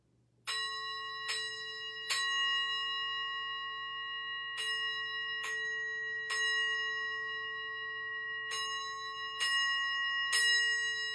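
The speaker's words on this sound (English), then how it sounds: "we start basically by 3 times 3 chimes" Ritual chimes at an Imbolc ceremony ring out clearly as nine bright, sustained strikes in three groups of three, each tone lingering and overlapping the next over a low background hum, with no talking.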